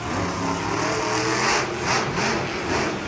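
A monster truck engine at a Monster Jam stadium show throttles steadily, loud and sustained, with rhythmic surges in pitch over a constant roar.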